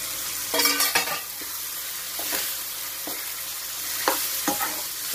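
A spoon stirs and mixes ridge gourd bharit in a sizzling pan, with a soft frying hiss underneath and several distinct scraping strokes spread unevenly, close and moderately loud.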